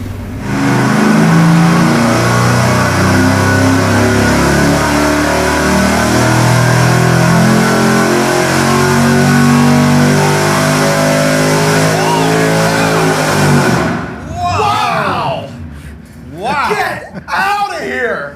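A stock engine fitted with a supercharger on a 3.7-inch pulley revs hard on a dyno, a loud sustained roar with rising and falling pitch for about fourteen seconds, then cutting off as voices laugh and talk.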